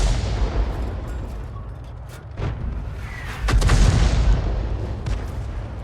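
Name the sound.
artillery gun firing in a tank video game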